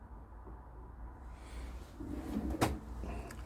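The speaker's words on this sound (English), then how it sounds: "And then another big drawer at the bottom." A big bottom drawer in a Pilote V630J X-Edition campervan slides with a faint rumble, then shuts with one sharp knock, quiet and close, with no voices.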